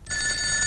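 A telephone rings indoors in a house during a Telugu comedy scene, a brief, steady electronic ring that is clear and close with no voices over it.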